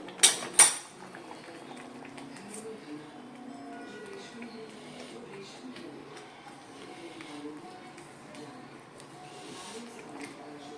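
A spoon clatters twice against a pan of karabath, a Karnataka breakfast with vegetables and sambar or vangibath spice powder, then a soft steady stirring and simmer follow, close and quiet with faint voices in the background.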